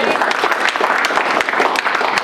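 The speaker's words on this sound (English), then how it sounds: "Let's give Kevin a big round of applause." A crowd claps loudly and steadily in a short burst of applause.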